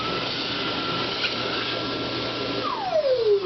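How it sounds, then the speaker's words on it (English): A futuristic hand dryer blows with a steady loud whooshing roar, its motor tone sliding downward near the end as it winds down. "I just had to show this super cool futuristic hand dryer"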